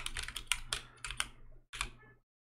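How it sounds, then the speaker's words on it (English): Fingers type on a computer keyboard in quick, uneven bursts of crisp clicks. There are two clusters of rapid keystrokes with a brief pause between them, and the clip ends in silence. No voice is heard. "We'll start typing."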